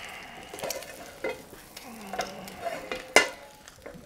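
Bacon and other food frying in a pan, a soft steady sizzle with stirring and a few sharp utensil clicks and scrapes, close and alone without talk.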